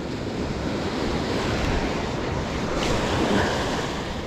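Sea surf washes steadily onto an Omani shore in the early morning, a continuous broad roar of breaking waves with some wind noise against the microphone and no voices.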